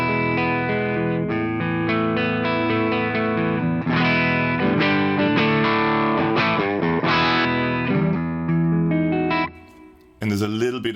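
Electric guitar played through the clean channel of the Genome amp simulator with the Displeased German preset: chords and melodic lines ringing with chorus and a touch of studio reverb, steady and upfront, ending in a brief pause and a final strum.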